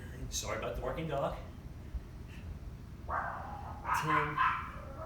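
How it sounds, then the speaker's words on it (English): A dog barks in short bursts in the background of a home workout, with a person speaking over it. "Sorry about the barking dog."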